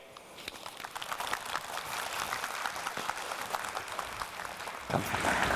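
An audience at the World Knowledge Forum 2019 conference breaks into sustained applause for Ban Ki-moon, steady dense clapping that swells slightly near the end.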